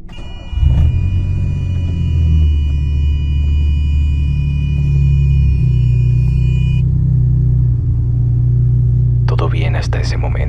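A grandfather's car engine starts and settles into a steady, loud low rumble for several seconds, alone at first. A high tone runs over it, and a burst of other noise comes near the end.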